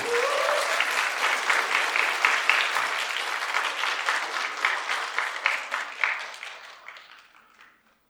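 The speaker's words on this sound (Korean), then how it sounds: "여러분 다시 한번 뜨거운 박수로 함께 하도록 하겠습니다" Audience applause at a school arts showcase in Boryeong following the announcement of an elementary school choir, a dense sustained clapping that holds steady for several seconds before fading out.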